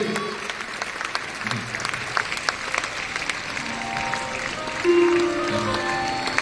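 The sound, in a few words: loud applause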